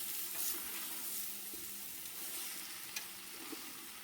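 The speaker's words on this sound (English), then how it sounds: "I'm just going to combine all the squash and the onions together" Butternut squash and onions sizzling in a pan as they are stirred together over low heat, a steady close frying hiss with occasional light scrapes and pops.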